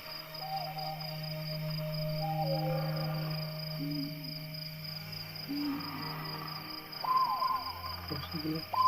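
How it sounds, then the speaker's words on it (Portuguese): Birds call at night in an outdoor hillside setting: intermittent short hooting and chirping calls, including owl-like notes, sound over a steady high insect drone from crickets, with a faint voice occasionally present. "Ó, pássaro passando."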